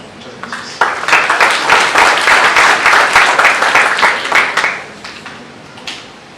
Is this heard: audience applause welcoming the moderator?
yes